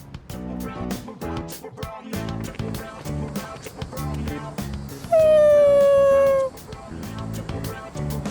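Koromaru the dog in Persona 3 Reload gives a long, sad whimpering howl that rises clearly over the game's background music, after several quieter yips.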